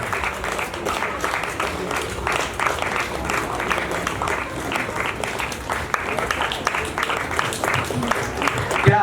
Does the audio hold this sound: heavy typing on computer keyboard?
no